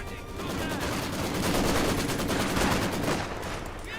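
Rapid bursts of machine-gun and rifle fire crackle continuously in Company of Heroes 2, a dense fusillade of overlapping shots with battlefield rumble beneath and faint voices mixed in.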